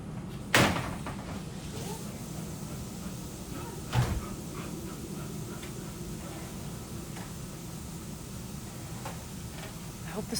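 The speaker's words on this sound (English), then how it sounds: "I'm letting Sawyer out" A house door bangs open, then thuds shut a few seconds later as a dog is let outside, two sharp knocks over a steady low background hum.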